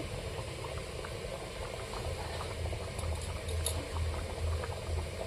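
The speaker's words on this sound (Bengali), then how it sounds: "এবারে ফুটে গেছে, ওর উপর দিয়ে ধনেপাতা কুচি" A pot of ghugni made with kabuli chickpeas and peas bubbles at a steady rolling boil, giving a dense continuous burbling with low thick plops, close and moderately loud, with no talking.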